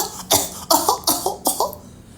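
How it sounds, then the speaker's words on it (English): A violent coughing fit from one person in a quiet room: five or six harsh, close coughs in quick succession. "immediately fell into a violent fit of coughing"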